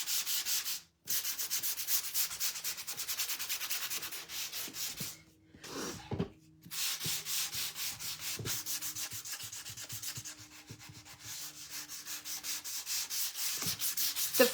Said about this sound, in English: This is just a gator micro sander, and I'm going to smooth this finish just a little bit.